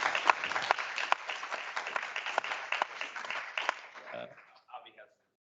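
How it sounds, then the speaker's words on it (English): A conference audience applauds panelists at the close of a session, with dense, steady clapping that fades out near the end and gives way to a couple of faint voices. "Another round of applause,"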